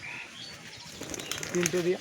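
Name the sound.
pigeon flapping its wings while being handled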